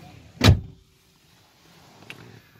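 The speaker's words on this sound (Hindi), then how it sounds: "दरवाजे कर लेते हैं बंद।" The door of a 2007 Kia Sportage is pulled shut, a single solid thump heard from inside the car, followed by quiet and a faint click a moment later.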